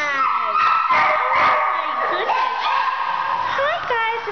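Spaniel and long-haired chihuahua mix puppies at an animal shelter let out a close, continuous run of high yips, whines and little howls, with overlapping pitches sliding up and down throughout.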